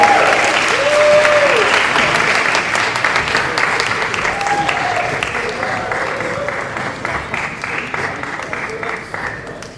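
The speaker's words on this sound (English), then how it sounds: "Give them a round of applause." An audience at a student union candidate question time claps in loud, sustained applause that slowly fades over about ten seconds, with voices heard faintly over it.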